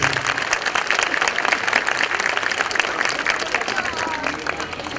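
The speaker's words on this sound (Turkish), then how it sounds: "Bu zayıf alkışları kendi üzerime alıyorum." Thin, scattered applause from a modest audience at a school graduation ceremony for the 2024-2025 year, a steady patter of hand claps lasting throughout without building to a roar.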